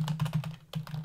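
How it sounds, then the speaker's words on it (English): Rapid clicking keystrokes on a computer keyboard while code is entered, a close, quick run of taps with a brief pause midway. "this isn't going to be complicated code, but it is going to involve a little bit of typing"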